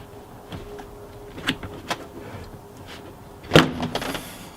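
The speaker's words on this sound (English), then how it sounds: "pull off my weather strip here without ruining my Alcantara trim piece" A weather strip pulled off the rear door of a BMW E46 M3, a few short scraping and rubbing bursts ending in one louder tearing pull, close up and without speech.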